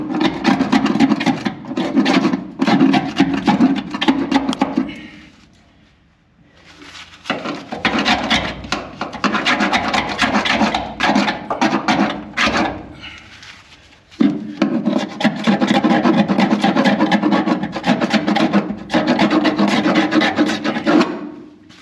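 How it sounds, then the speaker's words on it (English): A small hand scraper rasps oven cleaner residue off a bus surface in loud, close, repeated scraping strokes. The strokes come in bursts separated by short pauses. "so what I'm using is just this guy here. It's a little scraper."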